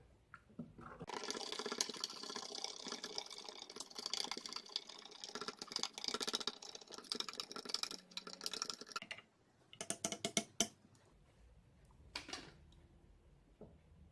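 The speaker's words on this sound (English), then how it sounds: "And we'll give it a good stir." A fizzy drink from a First Strike Ration MRE is stirred in a glass, giving a steady wet clinking and swishing for about nine seconds, then a few separate taps and knocks with quiet gaps.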